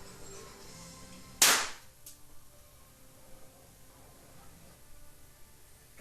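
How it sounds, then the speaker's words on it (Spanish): A single sharp gunshot fired at 20 centimeters cracks out, followed by a brief faint echo, then near silence with low background hiss. "vamos a realizar el disparo a 20 centímetros, como el anterior."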